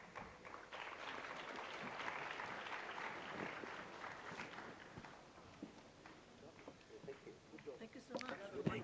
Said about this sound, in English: Another big round of applause, ladies and gentlemen